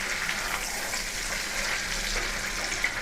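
Prawns fry lightly in a pan, giving a soft, continuous sizzle at fairly low volume with no talking.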